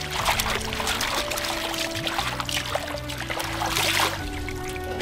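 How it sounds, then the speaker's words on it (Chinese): Water splashes and trickles as ingredients are washed again in a rural home kitchen, a continuous pouring and sloshing sound close by with faint background hum. "这些我们还要洗一次。"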